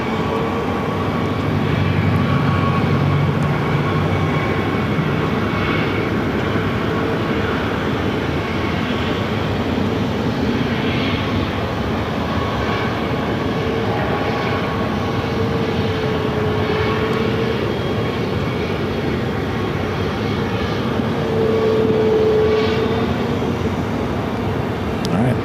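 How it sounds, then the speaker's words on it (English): A Pilatus private aircraft rolls for takeoff on runway 8 at Phoenix airport, a steady, loud broadband engine roar that holds for the whole stretch and swells slightly near the start and end. "That Pilatus is going to be taken off."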